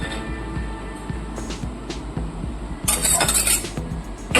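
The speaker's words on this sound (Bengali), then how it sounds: "এবার আমি ঢেলে নিচ্ছি।" Ladle scraping and clinking against a pot while boal fish curry is served out, a series of light metallic knocks with a brighter clatter near the end.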